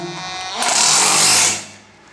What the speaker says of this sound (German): wir bohren, setzen den Dübel. Ich mache es ja wie immer mit der Bohrmaschine